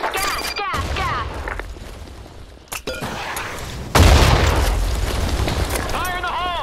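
A grenade detonates in the online shooter BlackShot, a loud, broad blast arriving about four seconds in and rumbling on amid scattered gunfire, with game voice callouts heard before and after.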